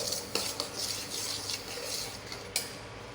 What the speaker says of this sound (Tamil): கடுகு பொரிஞ்சு வர அளவு வறுக்கணும்.